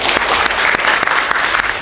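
A classroom of eighth-grade students applauds in a steady, dense burst of clapping. It is loud and close, with no talk over it.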